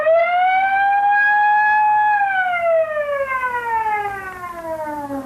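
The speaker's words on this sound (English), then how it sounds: "your auto alarms are certainly loud enough" A loud truck auto alarm siren wails steadily on one rising pitch, then slowly slides downward as it winds down, sounding alone with no voices.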